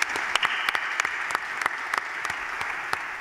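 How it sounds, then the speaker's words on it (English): An audience at a Loyola Chicago press conference announcing its move to the Atlantic 10 Conference claps in a thin, scattered patter, with individual sharp claps standing out over a steady low room hum. "Now, please clap for them."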